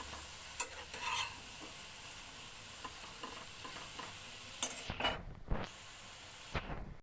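Neem leaves and eggplant fry in a pan while salt is stirred in, a quiet sizzle under repeated scraping and tapping from a spatula, fairly faint throughout.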